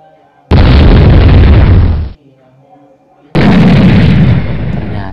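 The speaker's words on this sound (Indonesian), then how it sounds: "ledakan bom berikut" Two powerful bomb blasts, each a sudden deafening boom that rumbles for over a second before cutting off, separated by a short quiet gap.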